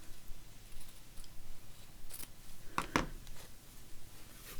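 Scissors trim the selvage off a length of fabric: a couple of quick, close snips in a quiet room.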